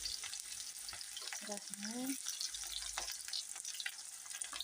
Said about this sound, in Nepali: अब मैले यहाँ पियाज र लसुन हाल्दैछु।